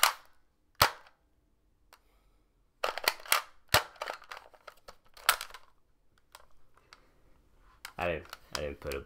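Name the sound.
gunshots from The Outer Worlds video game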